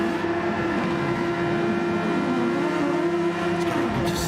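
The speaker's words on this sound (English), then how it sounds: "There's Tyre Slayer and Manny trying to burn out sets of tyres." Race car tyre burnouts in a Super Formula racing video game at Spa-Francorchamps, a continuous loud engine drone with a sustained whine, holding steady without breaks.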